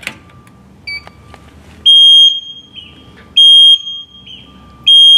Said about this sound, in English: Now, the machine has an audible sound system when it's in operation